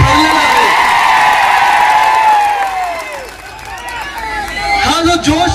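A crowd cheers at a Shiv Sena election campaign rally in Maharashtra, a loud, steady wall of voices with shrill whistle-like tones rising over it and a fresh surge near the end.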